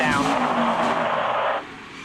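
NASCAR Xfinity Series race car tires skidding during a wreck, a loud broadband screech with sliding tones that cuts off abruptly, heard close with engine noise.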